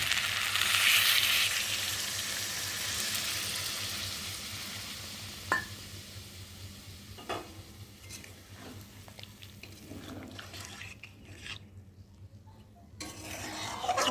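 Pointed gourd korma with poppy seed paste fries in a pan with a soft sizzle, a few scattered clinks of utensils and stirring, and fades quieter toward the end.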